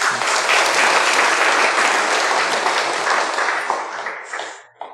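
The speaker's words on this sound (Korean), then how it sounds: "격려의 박수 한번 부탁을 드립니다." A church congregation gives a warm round of applause for a young child, a thick burst of clapping that holds steadily and then tapers off near the end.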